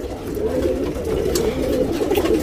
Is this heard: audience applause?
no